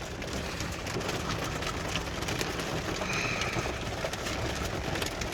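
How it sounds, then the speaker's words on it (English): Steady rain hisses and patters continuously, with a faint bird call briefly in the middle. "Thankful for this rain for Canada."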